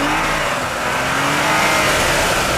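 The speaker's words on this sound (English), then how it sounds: "The unloaded wheels are rotating at high speed" An SUV's engine revs hard, with traction control switched off, as the unloaded wheels spin at high speed. The result is a loud, sustained whining roar with a rising tone and no speech over it.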